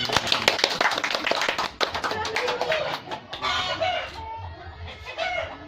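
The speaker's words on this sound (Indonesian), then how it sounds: "Mari kita kasih aplaus ke Bapak Nawawi." Group applause for Mr. Nawawi in a class session, a burst of many hands clapping that thins into scattered claps, with faint chatter and clucking chickens in the background.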